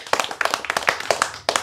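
A crowd of listeners breaks into brief applause, a dense patter of crisp hand claps lasting under two seconds that stops abruptly.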